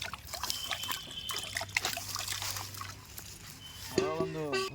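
Tap water runs and trickles over carrots being washed in a home kitchen, a steady close splashing flow with soft clatter, ending in a brief burst of sound near the end.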